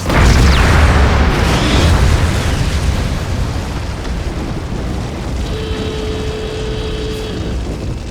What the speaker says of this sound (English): The explosion had occurred just outside the yard